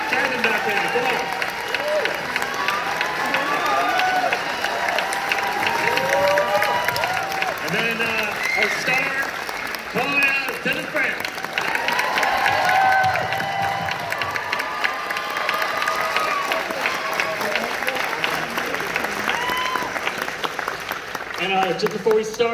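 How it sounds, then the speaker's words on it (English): An audience at a Sundance Film Festival screening of Wendy applauds the film crew, with sustained clapping and cheering from a large crowd that continues throughout, some shouts rising above it. "Stand up, give these guys a round of applause."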